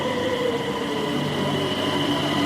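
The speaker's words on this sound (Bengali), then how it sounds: "যথারীতি সময়ে ট্রেন প্ল্যাটফর্মে ঢুকে গেল।" A train draws into station platform 7, heard as a steady, moderately loud rolling rumble with sustained tonal hum throughout, no voices over it.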